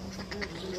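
A duck quacks at a market poultry shop, a few short nasal calls heard close amid low background noise.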